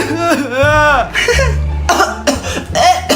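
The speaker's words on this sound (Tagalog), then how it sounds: "Anak, umubo ka ba?" Close, loud coughing mixed in with animated talking, a few sharp bursts breaking up the speech.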